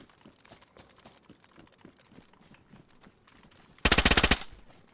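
A rapid automatic burst of gunfire in the survival game DayZ, loud and sharp, lasting about half a second near the end, after quieter footsteps and background game noise.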